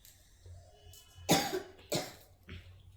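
A child coughs two or three times in short, harsh bursts at close range, with quiet pauses between the coughs.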